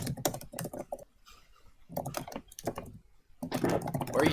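Keys clatter on a computer keyboard in bursts of quick, close taps, separated by brief pauses, with no voices heard.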